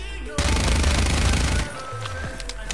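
A sustained, fast automatic burst from a primary weapon in a shooting game, loud and close, stopping abruptly after about a second, followed by fainter trailing sounds.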